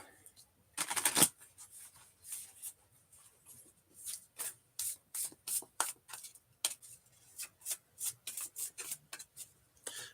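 Quick bursts of cards being shuffled and riffled, an irregular run of crisp, papery flutters close by, with a louder burst near the start.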